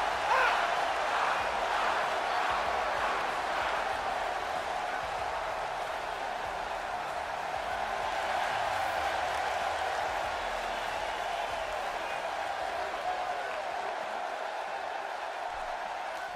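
Arena crowd noise in the WWE 2K18 wrestling video game, a steady, distant roar of cheering that stays fairly quiet and constant underneath, with no voices standing out.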